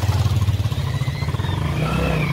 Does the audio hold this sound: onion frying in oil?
no